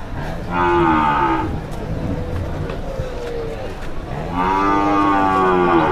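Cattle at a rural cattle market moo twice, loud, long calls near the listener separated by a few seconds of crowd noise and people talking.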